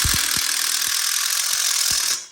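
A loud, steady high-pitched whine of an impact drill driving self-tapping screws into an outdoor kitchen module frame, running continuously, with a few sharp knocks underneath, stopping abruptly at the end.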